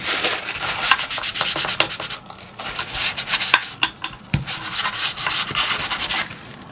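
Hands pressing and rubbing scrap paper down onto a decorated craft box, a run of close, dry scuffing and brushing strokes with short pauses between bursts, no speech.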